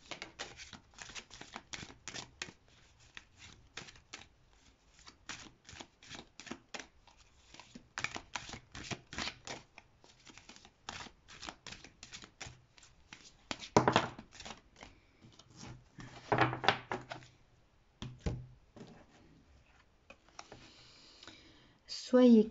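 Oracle cards being shuffled by hand during a reading, a long run of dense crisp riffling clicks and flicks, close and moderately loud, with a few brief louder bursts near the end.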